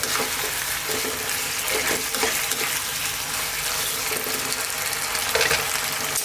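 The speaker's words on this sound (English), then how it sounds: "let's get this beautiful spicy sauce all over that pasta there" Penne pasta stirred through spicy arrabbiata tomato sauce in a hot pan on the heat, with a steady close sizzle and frying hiss, soft scraping and stirring textures running throughout.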